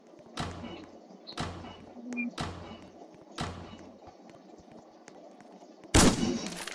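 Gunshots in an Among Us murder mod video game, four separate sharp cracks spaced about a second apart, then a louder, noisier blast near the end.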